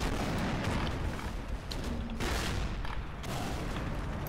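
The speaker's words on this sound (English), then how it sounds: "you can hear all these mortars popping off" Mortars and other guns firing in a combat scene from the World War II strategy game Combat Mission Final Blitzkrieg, with Panther and Sherman tanks in the battle, a steady, dense rumble of booms and distant shots with no talk.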